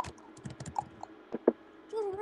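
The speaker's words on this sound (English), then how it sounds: "Are you, like, slamming your keyboard or something?" Computer keyboard typing while playing Minecraft multiplayer survival: scattered, uneven clicks and taps, close and fairly soft, with a short stretch of voice near the end.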